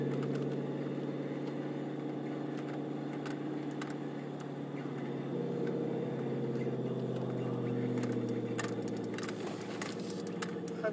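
A car drives steadily, its low engine drone and road hum continuous and fairly even throughout, with small clicks and rattles inside the cabin and no talk.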